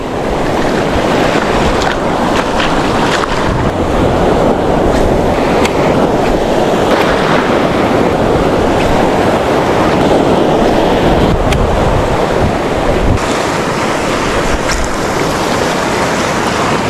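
Large ocean waves crash and surge continuously under strong wind, a loud, dense roar of surf and gusts with no voices.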